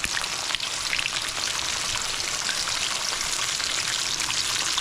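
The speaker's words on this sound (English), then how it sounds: "I want it to fry, but I don't want it to fry" Chicken for a sandwich fries slowly in oil with a steady, close crackling sizzle that holds even throughout, with no voices.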